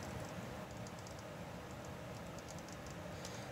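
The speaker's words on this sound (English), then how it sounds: "Does anyone have an idea what this clicking noise is?" Faint, irregular clicking from inside a desktop PC while its fans run and the hard drive sits idle, a steady whirring hum underneath with small scattered ticks, close and alone without talk.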